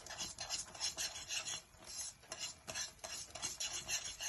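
Condensed milk toffee mixture being stirred in a pot, a steady scraping rasp of the spoon against the pan repeating in quick uneven strokes, close and continuous with no talk.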